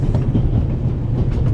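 Train running on rails in The Raven Remastered, a steady loud low rumble of a moving railway carriage with a faint rhythmic rattle, continuous and without speech.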